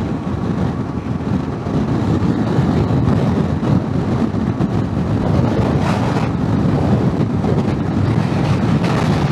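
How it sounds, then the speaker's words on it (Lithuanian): Heavy wind buffeting the microphone while riding a CFmoto 450MT motorcycle on a coastal road in Latvia, a loud continuous low rumbling roar with gusty swells, no talking. "Vėjas"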